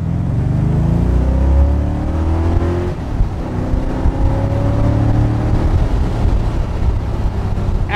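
A 1965 AC Cobra Mk III replica accelerates hard through its gears, a loud, close engine roar whose pitch sweeps upward, drops at each shift and climbs again over eight seconds, with no talking.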